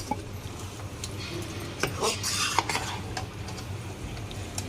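Gongura chicken curry stirred and mixed in a pan, a spoon scraping and clinking against the metal over a faint sizzle, with a few louder scrapes in the middle.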